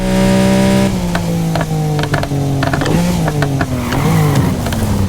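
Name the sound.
car exhaust revving in racing video game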